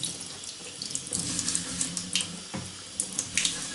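Tap water runs steadily into a sink while fossils are wet-sanded on 100 grit paper, a continuous close hiss and splash with small irregular gurgles and spatters.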